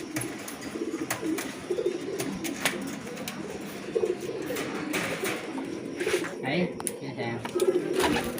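Pigeons in a loft give soft, repeated low coos throughout, moderately close, while someone talks over them.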